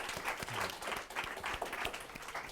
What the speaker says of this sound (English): let's give another round of applause for our 3 speakers.